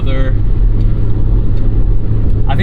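A 1988 Mazda 323 runs at low speed over bumps. Its engine and road rumble make a loud, steady low drone inside the cabin, with a voice briefly audible over it.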